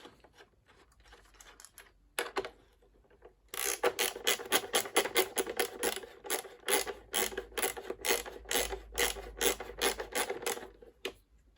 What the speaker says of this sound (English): Let's try screwing it in, see what happens.